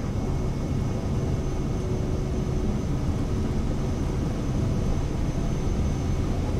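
Steady engine roar of a Cirrus Vision Jet lifting off the runway in a flight simulator, a constant broadband rumble with a faint high whine, even and unbroken throughout.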